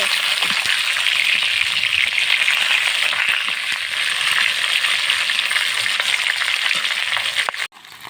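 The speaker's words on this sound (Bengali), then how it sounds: "মাথাটা ভাজা হয়ে গেছে" A katla fish head fries in oil, giving a loud, continuous, dense sizzle up close with occasional pops, ending in a sudden clatter as it is handled.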